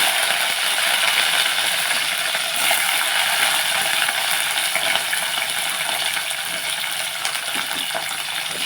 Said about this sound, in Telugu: కొంచెం జీలకర్ర వేస్తున్నాను కొన్ని పచ్చిమిర్చి